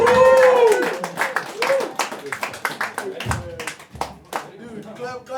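A comedy open mic audience at a Boise venue claps in uneven, scattered bursts, the applause mixed with overlapping voices and chatter.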